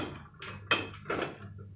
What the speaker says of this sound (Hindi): फटाफट यहाँ पे बर्तन पूरे जमा के लेती हूँ।